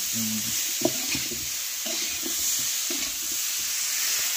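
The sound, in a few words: rohu fish being cooked in a pan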